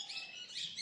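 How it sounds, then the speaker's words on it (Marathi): Faint, high chirps from small birds at dawn, a couple of quick tweets in a quiet village outdoor setting. "पाटेची वेळ आहे पक्ष्यांचा किलबिलटसुद्धा आपल्याला ऐकायला येतं आहे"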